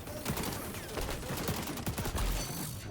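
An AK rifle in XDefiant fires a steady automatic stream of close, punchy shots for a few seconds, with no talking over it.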